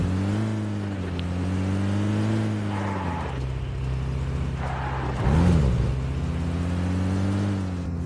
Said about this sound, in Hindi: अब मैं गाड़ी पकड़ता हूँ और फिर आगे जाता हूँ